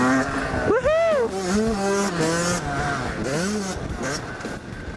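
A motorcycle is ridden on a beach, its engine note rising and falling through gear changes over a steady drone, with a voice speaking and whooping close over it.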